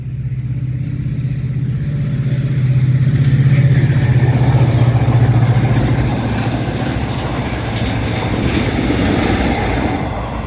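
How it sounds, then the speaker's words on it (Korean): A train rolls past a vegetable garden on a cold evening, its loud continuous rumble swelling toward the middle and then easing slightly while staying steady throughout, with no talking. "아우 또 기차가 옵니다. 정말 제가 영상 찍을 때마다 기차가 오고 있어요."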